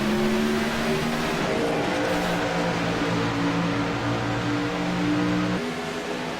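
Race cars accelerating hard at a green flag restart, a dense, loud roar of several engines revving and shifting together, with no voices over it.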